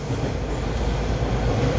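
A Toronto subway metro train rides toward Kipling, a steady loud rumble of wheels on rails filling the cabin throughout, with no voices.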